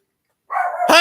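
An indoor pet dog lets out a single loud, close bark that rises into a sharp yelp after a moment of silence.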